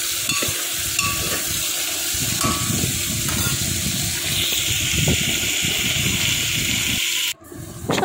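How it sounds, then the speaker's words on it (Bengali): Chopped vegetables fry in a pan for dalia, giving a dense, continuous close-up sizzle with stirring noises, briefly dropping out near the end before resuming. "তো সবজিগুলো প্রথমে ভেজে নিচ্ছি"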